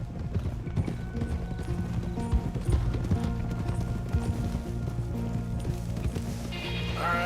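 Horse hooves clip-clop steadily on a trail in a western-style video game, a continuous rhythmic plodding at moderate loudness over layered game ambience and music, with a brief whinny-like sound near the end.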